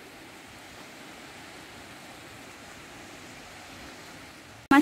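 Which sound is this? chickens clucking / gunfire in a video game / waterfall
waterfall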